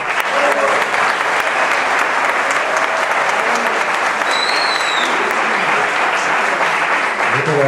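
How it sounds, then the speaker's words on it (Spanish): Loud, sustained applause from a concert audience at a Colombian music event, dense clapping running steadily throughout with a brief whistle-like tone partway through. "le doy muchas gracias a todos por ese aplauso"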